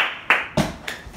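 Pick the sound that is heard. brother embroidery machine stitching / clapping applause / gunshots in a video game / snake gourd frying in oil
clapping applause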